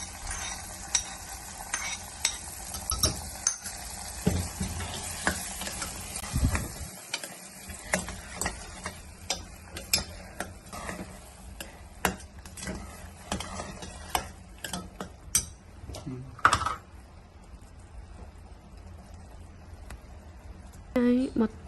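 Dry fruits fried golden in ghee are stirred into sweet chakkera pongal in a pressure cooker, giving soft scraping and clicking spoon strokes at close range beneath a person talking.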